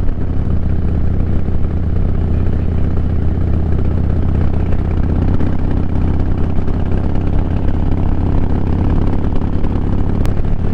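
A Harley motorcycle engine idles with a deep, steady rumble and loud, continuous throb, close by and unchanging throughout.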